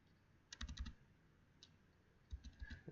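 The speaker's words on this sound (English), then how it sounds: "I just type in my email" Fingers tap out an email address on a computer keyboard, two quick clusters of crisp, close clicks separated by a short pause, quiet and with no talking over them.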